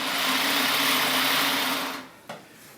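A hand-cranked Debrie Parvo cinema camera mechanism runs with a close, steady whirring hum, then stops abruptly near the end, followed by a single soft click.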